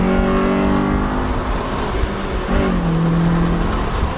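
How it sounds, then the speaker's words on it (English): A Honda EM1 Civic Si engine revs and accelerates up through a gear change with VTEC, the pitch dropping briefly at the shift, loud and close. "I still can't chirp gears right."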